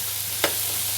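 Carrots, green beans and celery are stirred in a frying pan, giving one quick scraping swish over a faint steady sizzle, close and brief, with no voices.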